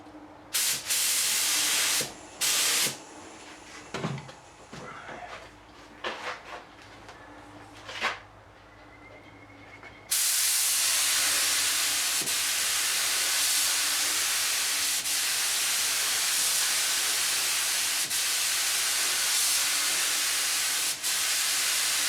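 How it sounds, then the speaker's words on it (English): A spray gun lays a final wet clearcoat on a repaired caravan dent: short hissing bursts come first, then one long continuous spray hiss close by that lasts to the end. "Alright, now we're going to give it one final coat."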